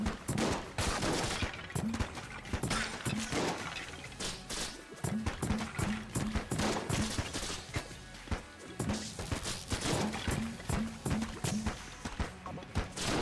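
Rapid gunfire in the video game Enter the Gungeon, dense bursts of shots and impacts with rhythmic repeated blasts over loud game noise, continuous and close throughout.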